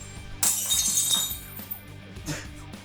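A white plate shatters with a sharp crash, followed by clinking, tinkling fragments and a second smaller impact a couple of seconds later, close and fairly loud.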